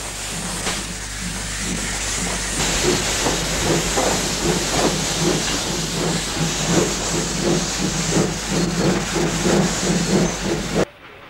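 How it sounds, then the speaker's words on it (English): Steam hisses steadily from a Ferrum 47 class TKH 0-6-0 tank engine built in 1947, a loud continuous rush with rhythmic chuffing pulses building through, alone and close, cutting off abruptly at the end. "Classified TKH, these widely dispersed engines were commonly known as Ferrum 47."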